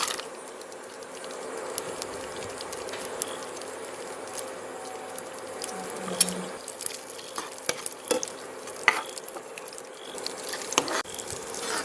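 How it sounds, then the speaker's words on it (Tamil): Cashews and raisins frying in a pan, a steady soft sizzle with scattered crackles and the scrape of stirring throughout, close and alone. "இப்போ முந்திரி திராட்சையை நம்ம வறுக்கலாம்."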